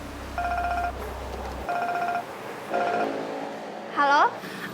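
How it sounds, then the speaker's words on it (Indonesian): A mobile phone rings with a repeating electronic ringtone in short regular bursts, loud and near, while people talk around it. "HP kamu bunyi."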